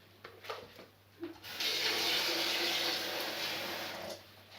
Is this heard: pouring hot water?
yes